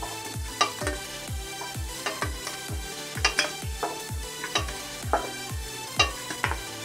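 Chhana koftas frying in hot oil, with a steady sizzle under repeated sharp clinks and scrapes of a metal spoon against the pan as the pieces are turned and lifted out.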